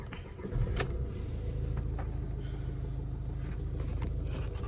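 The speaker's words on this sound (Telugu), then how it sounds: "వెహికల్ స్టార్ట్ చేస్తున్నాను" A 2017 Volkswagen Ameo car engine turns over and settles into a steady idle rumble, heard from close by inside the car with a few faint clicks.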